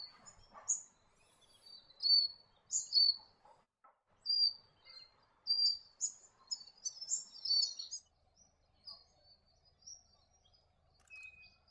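A white-breasted robin in southwest Western Australia gives a series of short, high, chirping calls in bursts with brief pauses, fairly faint against a quiet background, with no talking.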